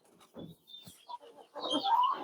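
Egg-laying hens on a small farm with a rooster, nineteen hens and one cock, give short clucks and coos, brief faint calls first, then a denser, louder burst of bird sounds toward the end.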